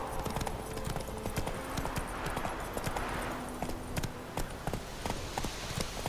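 A horse gallops in The Witcher 3: Wild Hunt, its hoofbeats forming a steady, rapid clip-clop that runs throughout at moderate loudness with no talking.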